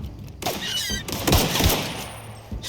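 Gunfire in the video game The Outer Worlds, a dense burst of loud shots and impacts running continuously through the whole moment, with heavier thumps near the middle.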